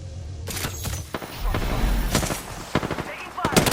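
Rapid automatic gunfire in the battle royale video game Apex Legends, dense bursts of shots and impacts crackling throughout, loud and close with brief gaps between volleys.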